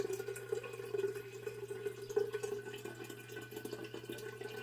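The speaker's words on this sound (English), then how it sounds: "you're going to place your good filtered water, not tap water, but good filtered water, or high alkaline water in there" Filtered water poured into a glass jar holding crystals makes a steady, close trickle with faint dripping, alone and continuous throughout.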